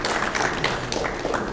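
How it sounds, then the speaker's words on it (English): Applause from an audience at a freshman football banquet, dense irregular clapping at moderate level, continuous through the moment. "Let's give them a round of applause for putting this"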